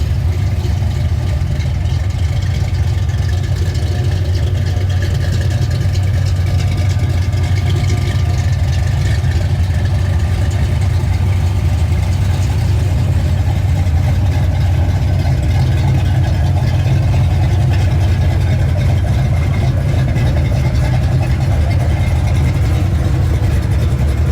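A Ford Foxbody V8 with a B cam, stock headers, and a BBK off-road X-pipe into two-chamber mufflers with stock tailpipes idles loud and close, with a steady, unbroken rumble throughout.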